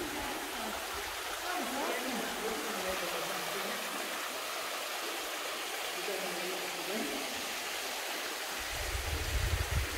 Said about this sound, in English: Now we've got a little waterfall here.